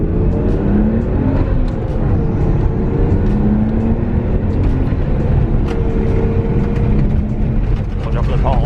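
A Nissan R32 Skyline engine starting and revving with its neutral safety switch disengaged, a close, steady, loud rumble with rising and falling rev tones throughout, while people talk over it.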